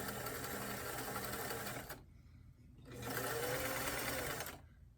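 A sewing machine runs a slight zigzag stitch along the edge of doll glove fabric in two steady bursts, pausing briefly between them, close and fairly loud with no talk.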